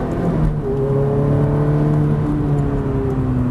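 A Ferrari F430 engine pulls hard out of a corner, a loud, steady close-up drone whose tone climbs gradually as it gains speed, with no voices over it.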